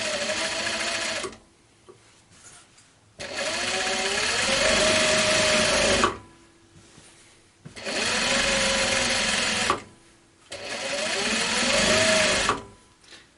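An industrial Juki sewing machine stitches a scrap quilt in four loud, steady runs of whirring motor and rapid needle clatter, each lasting a few seconds and separated by brief pauses.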